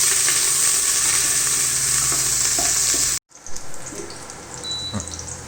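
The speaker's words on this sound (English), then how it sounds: "The sliced onion and fry it for some time." Sliced onion frying in a pan gives a loud, steady, dense sizzle with faint stirring. It cuts out abruptly near the middle and comes back as a quieter, patchier crackle.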